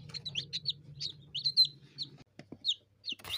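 Several newly hatched chicks from an incubator chirp in quick, high peeping calls, near and fairly soft, with a low background hum and a brief rustle at the end.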